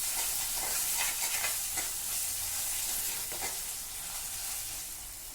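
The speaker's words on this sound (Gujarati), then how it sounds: "હવે આપણે આને થોડું હલાવી દઈશું." A spoon stirs fenugreek and gram flour curry frying in oil in a pan, giving a steady close sizzle with scraping stir strokes throughout and no talking.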